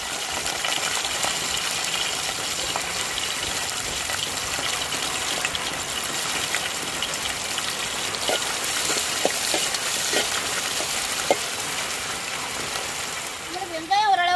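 Curry leaves sizzle in hot oil as sambar tempering is made, a steady broadband frying crackle running throughout with a few sharp pops and a brief voice near the end.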